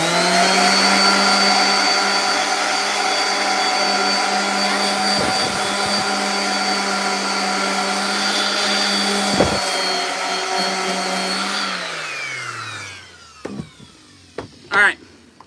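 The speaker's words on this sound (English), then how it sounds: "we're gonna grab the sander here." A power sander running on a wood surface, a loud, steady motor whine that holds for about twelve seconds and then winds down, followed by a few brief clatters.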